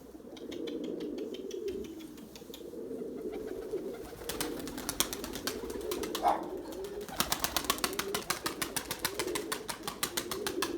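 Young pigeons cooing softly with a steady low warble, interrupted by bursts of wing flapping as they land, the rapid clapping beats growing louder toward the end.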